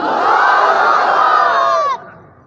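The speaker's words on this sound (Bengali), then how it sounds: "সাধু বাড়ি ছাড়া বাইরের লোকেরা যারা আছেন তারা দেন লিল্লাহি তাকবীর" A large gathered crowd shouts the takbir together in one loud, sustained roar of many voices that cuts off abruptly, leaving a fading echo.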